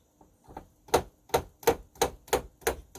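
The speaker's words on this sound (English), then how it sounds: "all you're doing is listening to the clicking of the keyboard" Mechanical key clicks from an unpowered Nektar Panorama MIDI keyboard, a few light taps followed by a regular series of sharp, close clacks, about one every third of a second, with nothing else audible.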